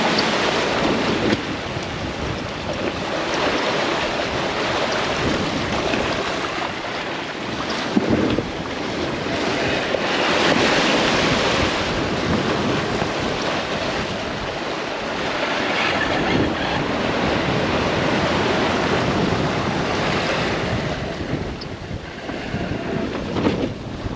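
Strong wind of about 27 knots roars over a small sailboat at sea while high ocean waves rush and slosh against the hull, a loud continuous surging with gusting swells and buffeting wind noise on the microphone.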